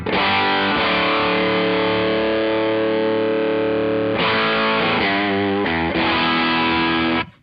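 A Fender Modern Jazzmaster electric guitar with humbuckers, played through a Laney LA-Studio amp, rings out loud, distorted chords, sustained for about four seconds and then restruck in a few shorter strums, with no talking.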